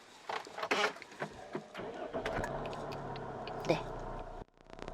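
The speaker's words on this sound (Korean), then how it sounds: "시동 소리가 너무 훌륭하고" Pressing the start button fires up a Jeep Renegade 2.0 with about 103,300 km on it: a short crank catches into a steady, close idle hum, with people talking around it before the sound cuts off.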